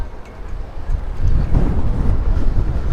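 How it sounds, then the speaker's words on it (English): Strong wind buffets the microphone on the deck of an Absolute Navetta 53 yacht, a loud low rumbling roar that gusts harder midway and stays heavy to the end, with no clear voices. "Try to get blown over by the wind."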